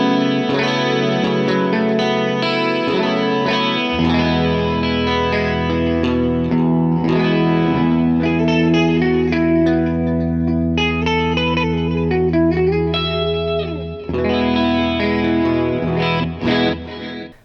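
Gibson Les Paul Custom electric guitar with both humbuckers split into single-coil mode, played as a sustained run of chords and ringing notes through heavy chorus and effects, loud and continuous with no talking.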